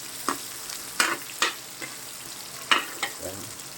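Pansit canton noodles with carrots frying in a pan, stirred in a handful of sharp scraping strokes over a soft, steady sizzle, close and fairly quiet.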